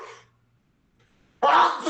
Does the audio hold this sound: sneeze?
yes